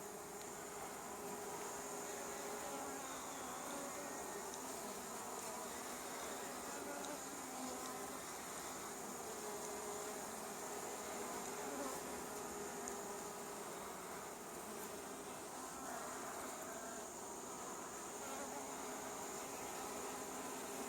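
A honey bee swarm buzzing steadily around a hive, a dense, continuous drone of many wings heard close and unbroken throughout, with no talking over it.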